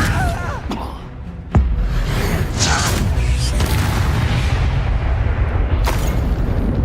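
A Confringo blast spell goes off in Hogwarts Legacy: a sharp impact near 1.5 s, then a sustained rumbling, whooshing barrage of magical combat effects and booms lasting to the end.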